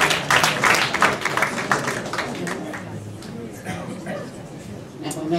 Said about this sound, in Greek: Ένα μεγάλο χειροκρότημα τα 87 έξιζε,